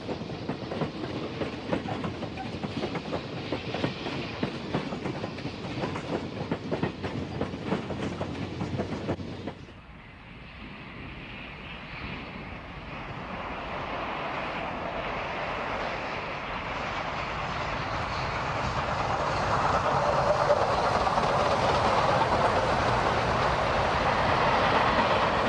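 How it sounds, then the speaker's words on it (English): Union Pacific 3718 steam locomotive departing Denver past an inbound freight, heard first as a steady rattling chatter of passing cars, then a broader rushing rumble that slowly swells louder, at moderate distance with no talk. "Departing Denver, the 3718 meets an inbound freight waiting to enter the yard."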